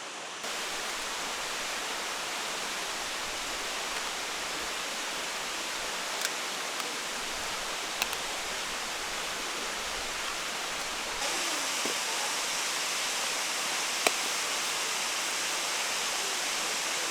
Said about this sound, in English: I love this waterfall. It's called SooOk Waterfall.